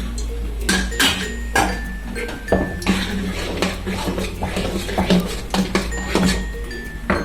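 A spoon stirs salted dosa batter in a bowl, making a rapid run of clinks and knocks against the rim mixed with soft wet scraping, close and fairly loud.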